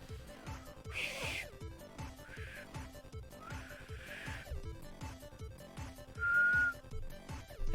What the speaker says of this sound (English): I'm trying to whistle.